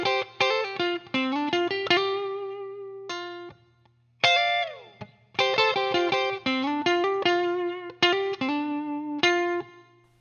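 Electric guitar lead playing the opening four bars of a song, with effects and light distortion: clean-toned double-stops and chord fragments, bends and slides in phrased bursts, separated by short gaps.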